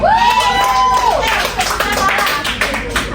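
Classroom students clap their hands together in a lively burst that runs throughout, close and moderately loud, mixed with some voices and a brief high tone near the start.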